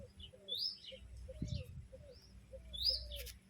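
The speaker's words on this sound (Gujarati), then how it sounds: "હવે ચકલીઓ આવશે ધીરે ધીરે" House sparrows chirp in short, bright bursts as they arrive to eat scattered grain, several calls spread across a few seconds over a low background rumble.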